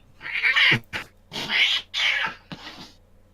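Cats screech and yowl in a room, several loud harsh caterwauling bursts with brief gaps between them, close and alone.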